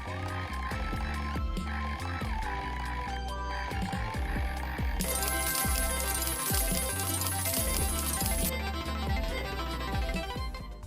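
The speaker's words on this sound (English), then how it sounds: "If you get a jackpot, coins spill out and a sound effect plays" Jackpot coins spill in a bright, dense shower from a slot machine in the video game Dacuiri, a clattering burst that rises loud over a steady electronic musical backing.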